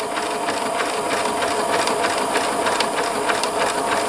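Pfaff Classic Style sewing machine stitching a buttonhole with the buttonhole foot, a steady close mechanical whir with fast rhythmic needle clatter running throughout without pause.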